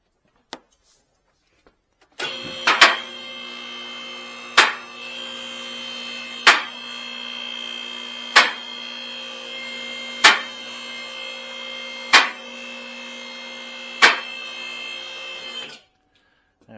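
A vehicle lift raises a 2008 Toyota Avalon with a steady electric hum, marked by sharp, evenly spaced clanks from the lift about every two seconds, before the motor stops.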